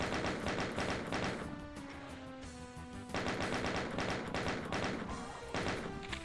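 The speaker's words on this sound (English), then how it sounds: "Not a fan of the sniping chain gunners." Chaingunner enemies in Plutonia 2, a Doom mod, fire dense, loud rapid bursts, with a short lull in the middle before the shooting starts again.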